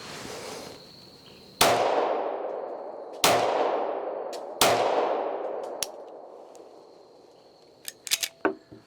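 A Rock Island 10 mm 1911 pistol fires three sharp, loud shots about a second and a half apart, each followed by a long ringing decay outdoors. A few lighter clicks and clanks follow the last shot.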